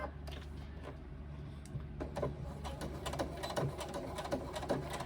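A domestic sewing machine stitches a fabric pocket pouch, a steady quiet mechanical whir with faint rapid needle ticking that runs on continuously at close range.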